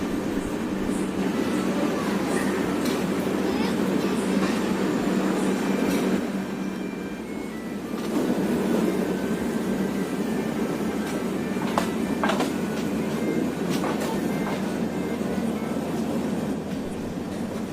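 A passenger train on the New Delhi to Kanyakumari route rumbles steadily along the rails, with a loud continuous roar, intermittent clicks and squeals from the wheels, and a short lull midway.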